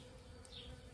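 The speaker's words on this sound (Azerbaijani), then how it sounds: "arılar su içməyə gəlmişlər" Bees buzzing as they come to drink water dripping at a garden watering spot, a faint, steady insect drone close by with no voices.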